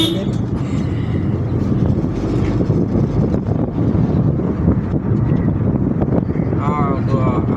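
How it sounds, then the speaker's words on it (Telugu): Strong, steady wind roars through an open car window on a village road near Vizag, a loud constant buffeting rumble that fills the whole stretch with faint voices underneath. "మిర్రర్ దించుకోండి, గాలి వస్తుంది."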